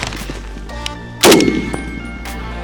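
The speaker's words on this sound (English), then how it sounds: "You're getting shot at." A single sharp gunshot rings out in a shooter video game, a loud close crack with a brief ringing tail, amid faint clicks and ticks before and after.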